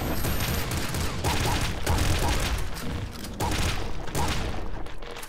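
Flare shotgun blasts and fire effects from the top-down shooter Nuclear Throne, a dense continuous run of game noise with repeated bursts, loud and steady for several seconds with no voice.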